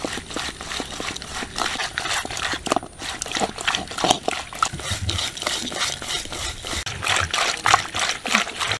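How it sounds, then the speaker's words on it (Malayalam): Small freshwater fish from a backwater lake being rubbed and washed by hand in water with salt, giving continuous close sloshing, splashing and scraping with irregular bursts. "അപ്പോൾ നമുക്കിതൊന്ന് തേച്ച് കഴുകി വൃത്തിയാക്കി എടുക്കാം"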